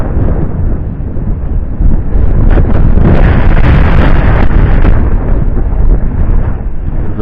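Strong wind buffets the microphone outdoors during a drone flight test, a loud, continuous rumbling roar with gusty surges.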